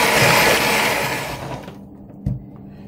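An electric mixer whirs loudly through cake batter with sour cream, then cuts off to leave a faint background hum with a single soft knock.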